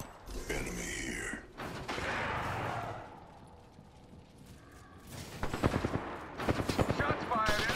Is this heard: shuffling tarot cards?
no